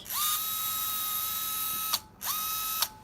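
A 25k Shark motor on a Scorpius PWM controller whines in two bursts, each starting with a rising pitch sweep that settles into a steady high tone before cutting off, quiet and close with no voices.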